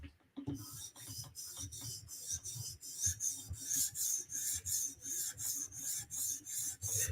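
A custom knife blade is drawn across a 400 grit sharpening surface in a regular series of about fifteen scraping strokes, each a short rasp followed by a brief pause, close and quiet with no speech.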